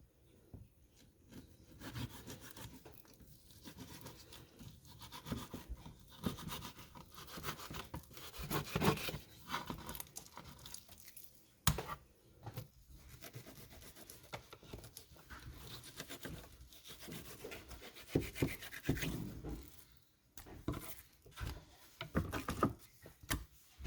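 A knife slices through crappie fillets at close range, giving soft, irregular scraping and rubbing strokes along skin and flesh with brief pauses between passes, no talking.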